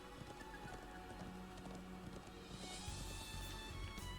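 Horse hooves clip-clopping in the video game Trails of Cold Steel III, a steady patter under a busy layer of game music and ambience.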